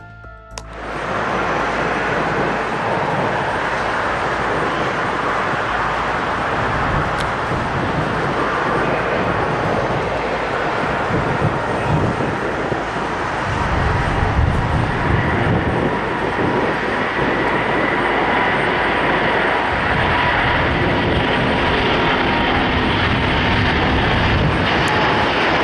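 A large Airbus A330 airliner taking off from Manchester, its jet engines holding a loud, steady roar throughout as it accelerates down the runway, with no voices over it.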